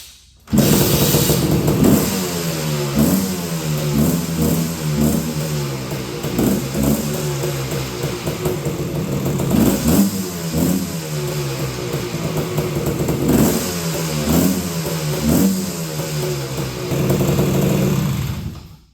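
A vintage Honda ATV engine, cold and not run in a while, starts and revs loudly for the full stretch, with repeated throttle blips rising and falling over a steady idle, close by and without talk.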